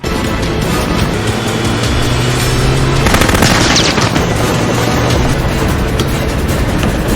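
Loud rapid bursts of automatic gunfire crackle at a helicopter amid a dense, noisy film action scene, continuing without pause.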